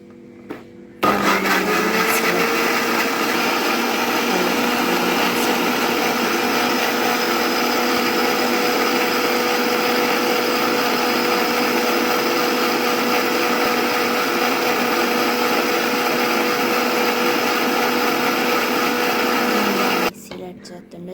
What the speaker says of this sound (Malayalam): നമുക്കത് നന്നായി മിക്സിയിൽ അടിച്ചു കൊടുക്കാം കേട്ടോ